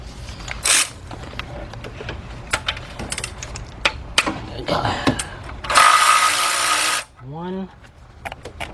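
A 15 mm socket ratchet works loose the oil pan bolts on a 2005 Cadillac CTS with a 3.6 engine, giving scattered close metallic clicks and a longer rattling burst while someone talks.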